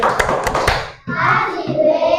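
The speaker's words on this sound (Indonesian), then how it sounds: "Kasih tepuk tangan untuk kelompok Al-Wali." A classroom group claps together in a burst of dense, rapid applause that stops briefly and then resumes just as strongly, close and loud.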